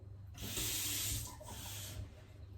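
Tap water running into a sink to dilute yeast with sugar for stuffed bread dough, a steady close hiss of flowing water lasting about two seconds with a low hum underneath.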